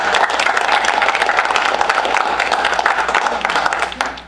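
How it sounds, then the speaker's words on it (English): An audience applauds after an evening talk, a dense wash of many hands clapping at steady loudness that fades slightly at the end. "So if we could just give them one more round of applause."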